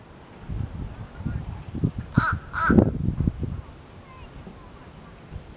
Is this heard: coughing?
no